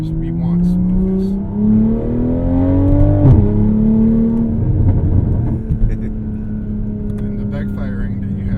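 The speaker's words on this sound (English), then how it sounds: "the backfiring that you have here is like the result of the management of the turbo when you run the car rich" A track-built Toyota Supra running rich with a managed turbo, its engine revving up in rising steps, then dropping with a crackle of backfire before settling into a steady drone, loud and close.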